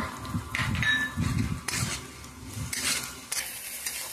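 Chopped green chillies and crushed garlic frying in oil before hilsa fish head and taro leaves are added, heard as a close sizzle with repeated scraping stirs and knocks of a spatula against the pan.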